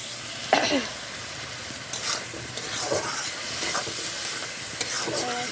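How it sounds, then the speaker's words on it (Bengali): Onions fry in a pan for a chicken curry, giving a soft, steady sizzle with several scattered clinks and scrapes of stirring, close and moderately quiet. "গোসটা রান্না করার জন্য পেঁয়াজ ভাজা দিতেছি"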